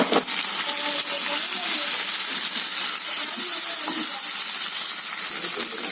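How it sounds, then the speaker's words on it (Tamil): Chopped tomatoes drop into a pan of frying onions, setting off a loud, continuous sizzle and hiss with a few light clinks of stirring, close up and without talk. "தக்காளி ரெண்டு தக்காளி கட் பண்ணி வச்சுருந்தோம்லங்க தக்காளி போடுறோங்க"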